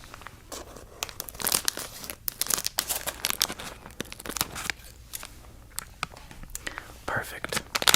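Scissors snip and crinkle open plastic packaging of sour strawberry candy, a close, quiet series of irregular crackles and cuts heard intimately with soft whispering alongside.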